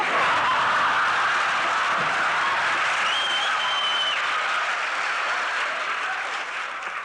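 University students applaud and cheer continuously, a dense, loud wash of clapping from a large crowd that holds steady and begins to fade at the very end.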